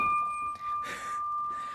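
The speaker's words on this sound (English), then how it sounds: "I think I should ring the bell." A handbell rings at the close of a live gem-selling stream, giving a sustained clear tone that sounds briefly louder twice in quick succession, nearby and alone.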